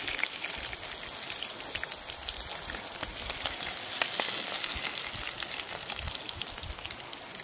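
Thyme leaves and garlic frying in hot oil in a pan, a dense, steady sizzle with fine popping crackles close by, continuing evenly throughout with no talking.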